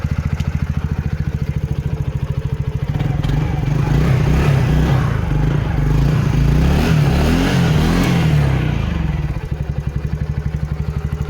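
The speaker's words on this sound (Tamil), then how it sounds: "வண்டி பாருங்கள், ஸ்டார்ட் பண்ணி காமிக்கிறோம் ஃப்ரெண்ட்ஸ்." An old motorcycle engine idles with a rapid, even thump, then revs up into a loud, rough roar for several seconds before dropping back to a steady idle, heard close up without talk.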